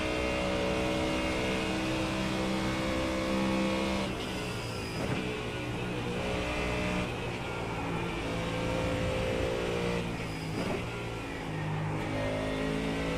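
A Ford Mustang race car in the iRacing sim at Mosport, its engine droning loud and steady with harmonic tones rising and falling through gear changes and revs, close and continuous throughout.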